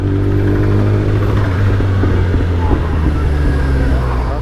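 A Kawasaki ZX10R motorcycle rides through town traffic, its engine a steady loud rumble with constant road and wind noise and no talking.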